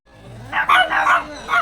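Dogs of several breeds kept in separate enclosures at Fantora Park in Yelagiri, giving a short run of close, loud barks and yips over roughly a second.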